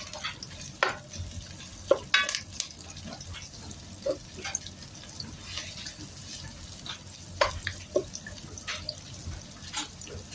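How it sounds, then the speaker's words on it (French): Onion and herbs sauté in a pan, a soft constant sizzle broken by frequent clicking taps and scrapes of a utensil stirring against the pan, close and fairly quiet throughout. "je fais bien revenir mon oignon et je rajoute aussi mes herbes pour les faire suer"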